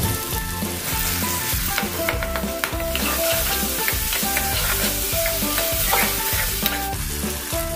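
Ginger paste, garlic paste and curry leaves sizzling loudly in a hot pan while being stirred, a continuous close fry with scraping stir strokes throughout and no voices.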